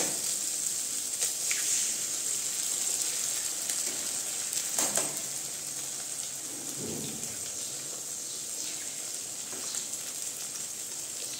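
Egg sizzles steadily in hot oil in a pan alongside fried brinjal, a continuous crackling hiss close by, with faint pops and a soft thump partway through and no speech.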